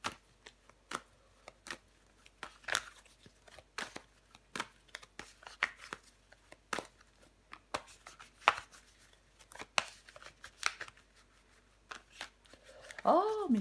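Tarot cards being laid out and handled, quiet scattered taps, slides and shuffling flicks at an irregular rhythm, with soft speech intermittently underneath.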